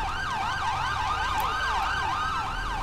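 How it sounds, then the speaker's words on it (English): An ambulance siren in the video game GTA 5 wails loud and close, a continuous rising and falling electronic sweep that repeats rapidly throughout, with no speech over it. "hear my siren over the ambulance siren"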